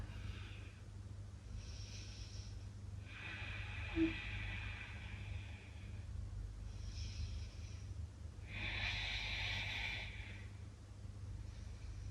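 Slow audible breaths during a yoga flow, close and soft, with long airy exhales and inhales spaced several seconds apart over a low steady hum.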